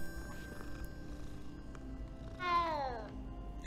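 A single drawn-out cat meow from the video game Hogwarts Legacy rises then falls, rather faint over a quiet, humming game background with light ambient tones.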